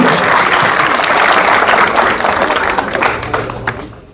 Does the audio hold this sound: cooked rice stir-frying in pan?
no